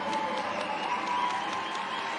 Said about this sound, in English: An applause for Jimenez as he heads to the bench.